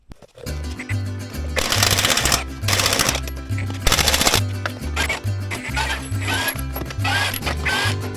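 A Milwaukee power tool removes a wheel from a Peterbilt truck axle, firing loud, close, rattling hammering bursts, several in a row with brief pauses between them.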